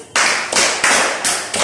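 A few loud, sharp bursts of group clapping at a motivational self-improvement session, arriving in quick rhythmic waves close by with almost no talk.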